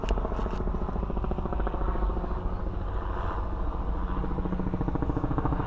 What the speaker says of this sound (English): you see I got helicopters flying around me